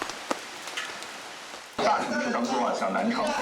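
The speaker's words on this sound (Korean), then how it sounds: "어제부터 날이 갰다 흐렸다 하더니 기어이 비가 옵니다" Rain sets in outdoors at a large family home in India, a few drips at first then a sudden steady hiss of rainfall on surfaces, fairly loud and continuous.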